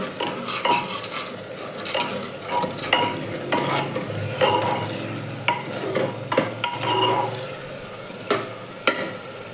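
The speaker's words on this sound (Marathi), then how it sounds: "आपण आता आलं, लसूण आणि मिरची टाकू, पेस्ट चांगले परतून घेऊया" Ginger, garlic and chili paste frying in oil with already-cooked onion and tomato, a close, steady sizzle with frequent spoon scrapes and clinks against the pan, no voices.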